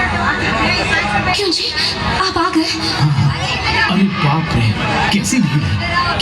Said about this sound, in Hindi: अरे बाप रे, कैसी भीड़ है